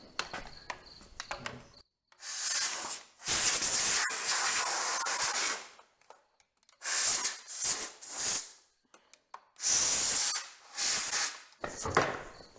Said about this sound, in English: grab our wand, hook it to our compressor